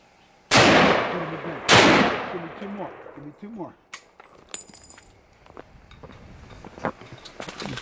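Two loud, sharp gunshots ring out during a hunt about a second apart, each echoing and trailing off, followed by quieter rustling, clicks and movement.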